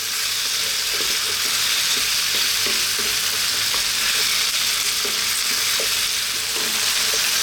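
Root vegetables frying over medium heat in a pan for a sausage stew, a loud continuous hiss and crackle with occasional soft stirring knocks underneath.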